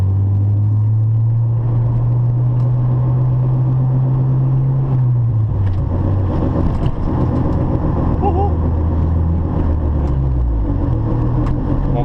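A modified 1992 Honda Civic hatchback drives with a loud, steady engine drone that drops in pitch partway through as it shifts, under constant road rumble, with a person talking over it.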